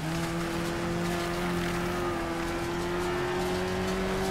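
Race car engines in the video game Wreckfest drone steadily and close by with a sustained mid-pitch whine, several cars running together without pause for the whole stretch, no talk over them.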